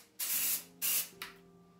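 Dry volume blast hairspray hisses from an aerosol can in three bursts, two longer sprays and then a short final puff, close and fairly soft, with no talking.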